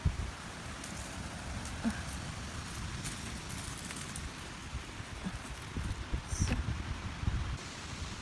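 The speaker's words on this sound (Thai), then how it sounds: "ลมแรงมากค่ะ" Strong wind rustles through leaves outdoors while mushrooms are being gathered in the woods, a steady broadband rushing with gusty swells and a few brief knocks, no talking.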